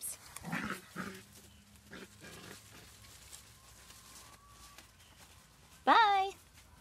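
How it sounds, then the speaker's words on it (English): Stray puppies found on a farm give a couple of faint yelps early, then one loud, sharp, close whining yelp near the end, amid quiet background and a person speaking softly. "Oh, doggies."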